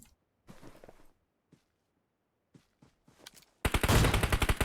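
Gunfire in the mobile battle royale game PUBG Mobile: a few short scattered shots and bursts, then a loud rapid automatic burst at the end.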